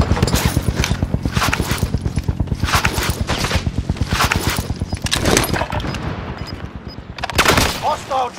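Rapid bursts of automatic gunfire from a video game shooter, dense and repetitive rhythmic shots through most of the stretch with brief louder bursts near the end, fairly close and loud.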